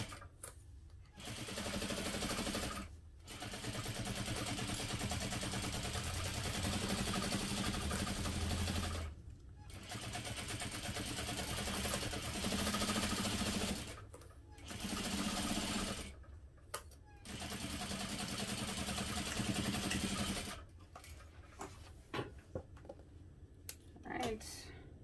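Home sewing machine fitted with a Teflon presser foot stitching fabric for a holiday armadillo stocking, with long steady whirring runs cut by short pauses, close and fairly loud.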